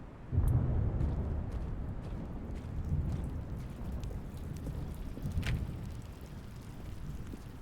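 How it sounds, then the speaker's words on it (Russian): Steady rain in The Stanley Parable Ultra Deluxe video game, a dense broadband patter that stays fairly loud and even throughout, with a few brighter drops and swells and no talking. "Дождливо тут."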